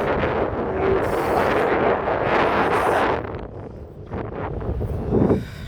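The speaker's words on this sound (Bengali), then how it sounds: "অনেক বাতাস তো, সমুদ্র পানি, সমুদ্র বাতাস।" Strong sea wind buffets the microphone on the coast, a loud, continuous roaring rush that surges and eases, with no speech.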